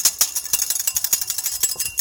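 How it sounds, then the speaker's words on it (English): A whisk beating oil into homemade mayonnaise in a bowl, rapid rhythmic metallic clicks and taps repeating back and forth at a quick steady pace, close by. "You gotta whisk it and beat it up a little bit"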